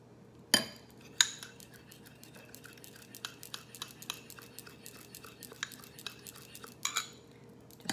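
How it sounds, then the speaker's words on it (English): A utensil stirring eggs in a bowl while tempering pie filling for a chocolate fudge pecan pie, giving soft repeated scrapes and a few sharp clinks against the bowl, close and fairly quiet. "putting it in with the eggs, stirring it up"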